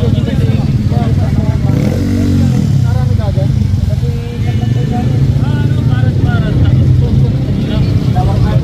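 A modified Yamaha Mio motorcycle revs loud and close at a street race, its engine buzzing and rising in pitch as it passes, with crowd voices and talking underneath.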